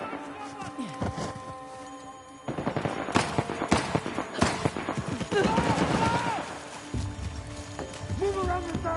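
Gunfire from the Uncharted video game, a burst of sharp cracks and shots mixed with shouting voices and a busy combat soundscape, loud and close, with a short pause before the firing picks up again.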